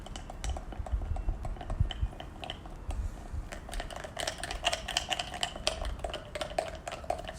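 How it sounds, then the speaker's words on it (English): A spoon mixes flour and liquid for a sourdough starter in a container, giving a quick run of light clicks and scrapes, close and fairly quiet, with no talk. "So a spoon is great to mix it."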